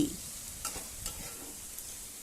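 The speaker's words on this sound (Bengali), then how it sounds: "এবার আদা রসুন টমেটো বাটাটা একটু নাড়াচাড়া করব যতক্ষণ না তার কাঁচা গন্ধটা চলে যায়" Ginger, garlic and tomato paste fry over medium flame in a pan, a steady close sizzle with soft periodic scrapes and stirs of a spatula.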